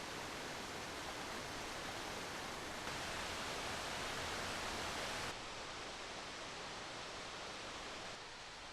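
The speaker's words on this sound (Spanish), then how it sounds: "donde no se oye más que el murmullo de las cataratas" Waterfalls cascade in Plitvice Lakes National Park in Croatia, giving a constant, full rushing roar of falling water with no pauses and no voices.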